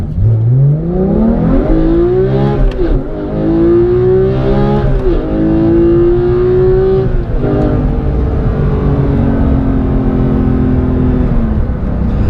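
A Porsche 991.2 GT3 with manual gearbox pulling away hard, its engine revving up through several gears with rising pitch sweeps and brief dips at shifts, loud and close with no talking.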